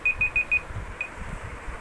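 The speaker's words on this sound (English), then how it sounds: "Oh, stop the timer." A timer alarm goes off during a game of charades, four quick high electronic beeps in a row and one more after a pause, over faint room noise.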